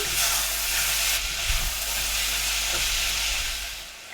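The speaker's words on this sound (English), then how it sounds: "Add minced pork or beef and cook through" Minced pork or beef frying in a pan with softened capsicum, a steady broadband sizzle running throughout with a faint scrape of stirring midway, loud and close, fading slightly at the end.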